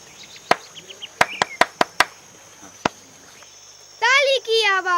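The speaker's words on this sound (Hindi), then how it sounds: "ताली की आवाज" Several sharp hand claps ring out irregularly against a high insect-like whine, followed by a voice speaking near the end.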